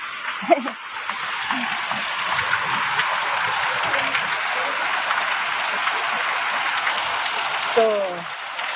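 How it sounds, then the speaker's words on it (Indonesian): Light rain falling steadily on surfaces outdoors, a constant even patter throughout, with faint voices briefly at the start and near the end. "Hujannya nggak deras."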